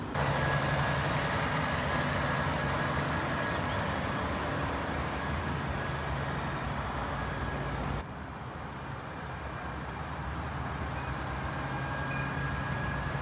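A tractor or similar farm vehicle pulls away towing a repaired dung trailer, its steady engine drone loud and continuous before easing slightly in level as it heads off toward the yard.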